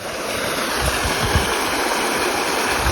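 Water gushes heavily and steadily nearby, a loud, constant rushing roar with gurgling splashes.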